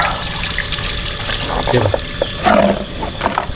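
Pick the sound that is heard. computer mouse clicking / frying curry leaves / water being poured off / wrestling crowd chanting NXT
water being poured off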